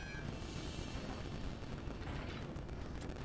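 Ship guns firing in a naval warfare video game, a dense, continuous roar of booming shots and blasts that fills the whole stretch at steady loudness, with no talk over it.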